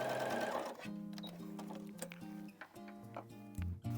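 Sewing machine stitching fabric for strippy improv quilting, a close, rapid mechanical whirr in short bursts that stop and start, with no talking.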